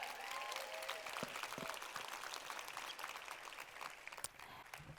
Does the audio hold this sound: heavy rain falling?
no